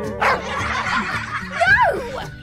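A small cartoon dog in Bluey gives a short burst of yappy, high barks and excited vocal noises, loud and close, mixed with giggling character voices.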